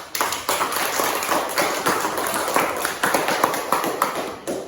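A classroom group claps for a finished group presentation, producing uneven bursts of hand claps and taps that rise and fall at moderate volume across several seconds.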